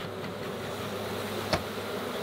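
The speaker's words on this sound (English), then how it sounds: "so that when the bees come out of here" Bees buzzing faintly around a hive box outdoors, a low steady drone with a single brief close sweep passing by midway.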